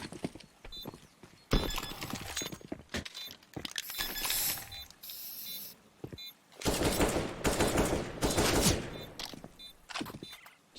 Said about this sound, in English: Putting a few bullets into the last player to make sure he's really dead